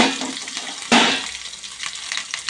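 Curry leaves drop into hot tempering oil that already holds fried urad and chana dal, a loud, close burst of spitting sizzle that settles into a steady crackling fry.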